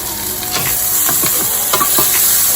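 Ginger garlic paste with onion, curry leaves and green chili sizzles loudly in a pan for a South Indian vegetable kurma, with a spoon scraping and stirring in repeated strokes.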